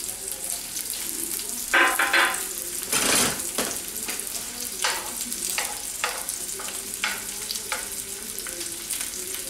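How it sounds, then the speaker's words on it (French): Small slices of chorizo browning in a hot frying pan, a loud continuous sizzle with crackling bursts and several stirring or tossing swells. "ma poêle est chaude. Je vais faire colorer mes petites tranches de chorizo."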